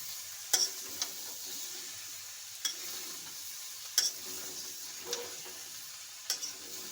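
Potatoes and jackfruit sautéed in curry in a pan, with a soft continuous sizzle and a few sharp spoon scrapes and clicks at spaced intervals, fairly faint and close, no talking.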